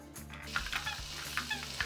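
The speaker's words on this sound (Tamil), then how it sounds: "எண்ணெய் இப்போ நல்லா சூடாயிடுச்சு நாம் பிழிஞ்சு விட்டுக்கலாம்" Steady hot-oil sizzle of murukku dough frying, with bright crackling bursts popping up every few moments, close and continuous with no voices.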